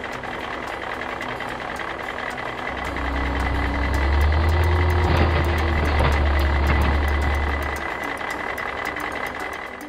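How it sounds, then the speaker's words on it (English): A rigid dump truck rumbles up close, its deep engine drone swelling for several seconds and then easing off over steady background noise. "Rigid dump truck."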